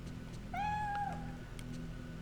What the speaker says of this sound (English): Miku, where's the cat?